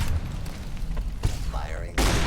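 Gunfire in Fallout New Vegas during an attack, dense bursts of shots and booms, loud and close, with a sharp sweeping tone midway and a heavy blast near the end.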